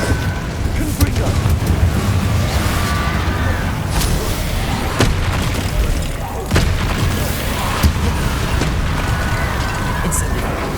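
Confringo blasting spells in Hogwarts Legacy: repeated fiery explosive bursts at irregular intervals over a dense, roaring wash of combat noise, loud and close throughout.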